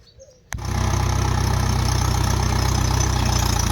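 A tractor engine starts abruptly and then settles into a loud, steady, throbbing idle with a regular low pulse, close by and continuous.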